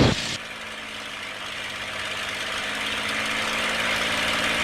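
A TF-51 Mustang aircraft engine runs up to 2300 RPM on the ground, a loud, steady propeller-engine roar that holds constant and builds slightly, after a brief initial burst at the start.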